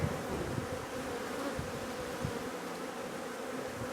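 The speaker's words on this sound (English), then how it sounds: "Get off, bees, we want it to dry" Honeybees buzz in a dense, steady hum around a hive where a queen has just been added, a faint continuous drone with no voices.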